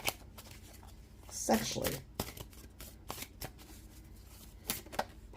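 Tarot cards shuffled by hand in repeated crisp riffling bursts, close and clear, while someone talks over them.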